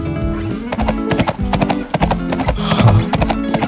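Horses race at a nearby racetrack, hooves clip-clopping in a steady galloping rhythm with an occasional whinny, loud and continuous throughout.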